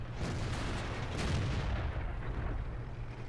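A tank cannon shot in World of Tanks, a heavy booming blast that swells and rolls off into a long low rumble, loud and close with no talk.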